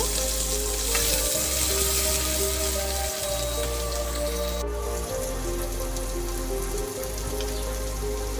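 Chopped garlic frying in a pan in a village kitchen, a steady rain-like sizzle hissing continuously at moderate loudness with a low hum underneath, no voices.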